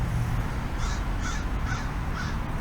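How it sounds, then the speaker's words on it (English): A crow or raven perched on a roof gives four evenly spaced caws over a soft outdoor background, moderately distant and clear, no talk. "There's a raven sitting on the roof."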